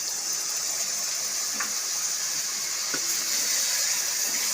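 Rinse water from a spice bowl being poured into a simmering Bengali katla fish rezala curry, a steady close hiss of pouring and sizzling with a couple of faint clinks, and no talking.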